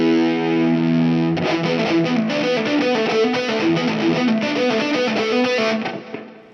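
Distorted electric guitar through a Line 6 Helix set for a Gallien Krueger style tone, a long sustained chord swelling in before a run of fast, thick melodic notes, loud and alone.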